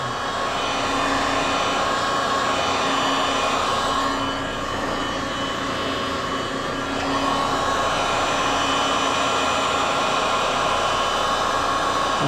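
A heat gun blows steadily on the underside of a plastic sheet to bend it for an upper door enclosure, giving a continuous loud fan roar and hiss close by. A short dip comes midway, with no talk.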